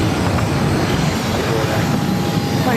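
A jet roars loud and continuous on takeoff from runway 22 right at Boston's airport, a broad rushing engine noise that holds steady with no clear voices.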